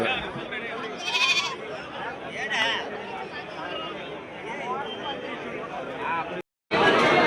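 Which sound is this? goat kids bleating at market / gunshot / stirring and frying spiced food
goat kids bleating at market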